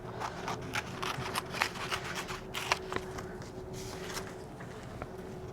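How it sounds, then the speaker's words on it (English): Scissors cutting a square freehand from paper for a hedgehog craft, a series of close crisp snips and paper rustles in an uneven rhythm, no voice over it. "I'm just cutting this out free-handed. I'm going to just cut out a square."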